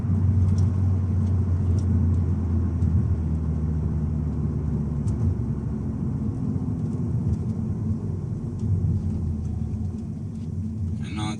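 A stock VW Scirocco 2.0 TSI 210 hp turbocharged engine drones with a steady, low rumble throughout while driving, with a deep constant hum and faint road noise, no voices.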